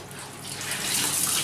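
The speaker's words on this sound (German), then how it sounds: "Jetzt nehme ich ein sauberes Handtuch. Das mache ich komplett nass. Mit kaltem Wasser." Kitchen tap running cold water onto a clean towel to soak it, a steady rushing splash that grows slightly louder over a short stretch, with no talking.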